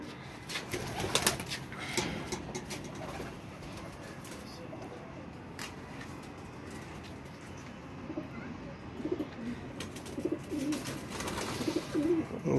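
Pigeons with dry purple feet coo softly and repeatedly in a loft, low murmuring calls spread through the scene amid rustling, with occasional faint speech nearby.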